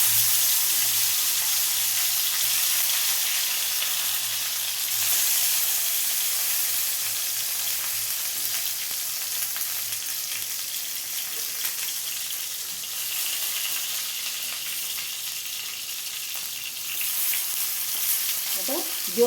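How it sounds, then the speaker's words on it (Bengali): Lentil and prawn patori fries in mustard oil in a frying pan over low heat, giving a steady, close sizzle and crackle that runs the whole way through with no talking. "জোর কমিয়ে আস্তে আস্তে ভাজতে হবে, নাহলে ভেতরে কাঁচা রয়ে যাবে।"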